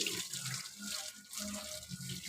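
Water runs and splashes while a dog named Lalu is bathed, an uneven close gush with shifting spatters and low bubbling throughout, no clear speech.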